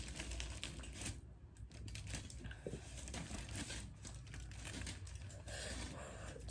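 Knife sawing through a crispy toasted sandwich gives a dense run of close crackling and crunching across the whole stretch, with no talk.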